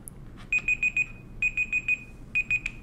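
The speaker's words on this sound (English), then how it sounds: "that was my timer for 30 minutes" Kitchen-style 30-minute timer alarm beeps in rapid groups of four, three bursts separated by short pauses, close and clear over a faint background hum, with no talking.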